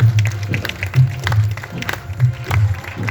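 Audience clapping at a devotional bhajan gathering for Shyam, uneven claps under a thumping low rhythmic beat that pulses roughly twice a second, with a lively crowd feel.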